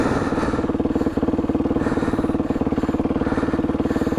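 Dirt bike engine running steadily while riding sandy trails, a loud continuous throbbing drone with a rapid pulsing rhythm close by, no talk.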